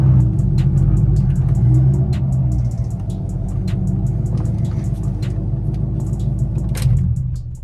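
Steady low exhaust rumble from a Chevrolet C5 Corvette with an aftermarket exhaust, loud and droning throughout with small rises in revs and a few sharp clicks on top.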